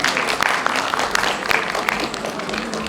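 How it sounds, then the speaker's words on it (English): Steady, dense applause from an event audience after a performance, a continuous wash of many hands clapping at once with a few sharper claps standing out nearby. "Let's have a huge round of applause for them once again."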